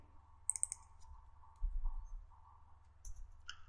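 A computer keyboard in a quiet room, with a few sharp, close key clicks including a firm press on the Enter key, separated by near silence.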